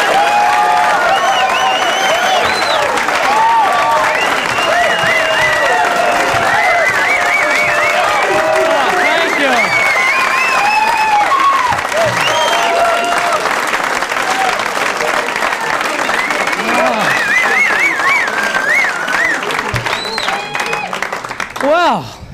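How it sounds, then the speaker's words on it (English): A large comedy-show audience greets comedian John Pinette with loud, steady applause, whoops and whistles carrying on for over twenty seconds before easing slightly at the end. "Please, a nice round of applause for the comedian"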